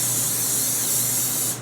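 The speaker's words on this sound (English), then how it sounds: "I'm going to spray the bottom of my baking dish" A short, loud, continuous burst of cooking spray onto the bottom of a baking dish hisses for a second and a half, then cuts off abruptly.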